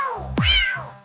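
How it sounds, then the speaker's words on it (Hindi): A cat gives a single clear, close meow that rises and falls over about a second against a soft low background hum. "बिल्ली मौसी म्याऊ म्याऊ"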